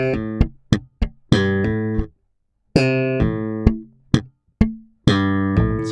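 A slap bass line played on a bass guitar: short, punchy, sharply attacked notes form a repeated phrase broken by brief rests, played solo and close.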